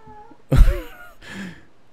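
A house cat gives one loud, close meow with a wavering pitch, then a softer, shorter follow-up call after a brief pause, against a quiet background.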